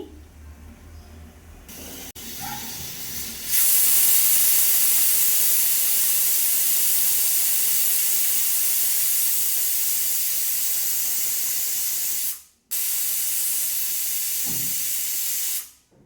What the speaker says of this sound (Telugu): కుక్కర్ విజిల్ అయితే వచ్చేస్తున్నాయి